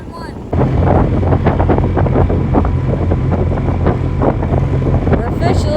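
Motorboat running along a river under bridges, a steady close engine drone with rushing water and buffeting wind noise on the microphone, beginning abruptly after a quiet start.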